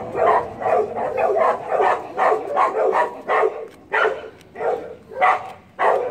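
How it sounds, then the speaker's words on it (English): Several dogs bark back and forth at each other somewhat in the distance, a steady run of repeated barks lasting several seconds. "Dogs are barking again at each other."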